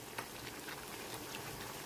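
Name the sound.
tamarind water boiling with gooseberries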